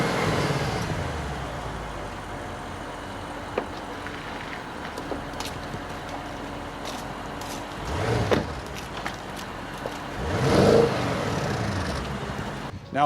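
An Audi S6 V8 fitted with a Milltek sport exhaust drives along as a subdued road drone that rises into two louder engine swells near the end.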